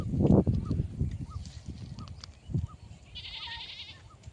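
A goat bleats several times out in a field in the afternoon, loud and close at first, then in shorter calls amid soft rustling outdoor background, with a faint high tone near the end.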